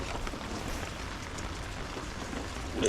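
Steady rain falls outdoors during a Toyota Camry Solara head gasket repair, a dense even patter on surfaces with no voices, holding a constant level throughout.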